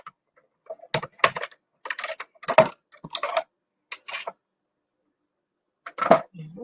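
A die-cutting machine rolls plates through to cut a tulip-shaped card die, giving a series of short clicking, grinding bursts with pauses between them, close and moderately loud, with no talking.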